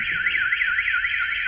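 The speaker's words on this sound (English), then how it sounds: "the alarm will activate" Ford Mustang car alarm sounding, a loud continuous warbling siren rising and falling steadily and close by, with no voices.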